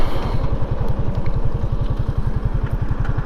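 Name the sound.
motorcycle engine while riding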